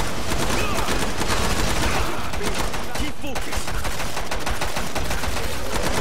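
Killing Floor 2 video game gunfire: loud, dense automatic fire rattling almost without pause for several seconds, with overlapping shots and bursts, close and filling the whole clip.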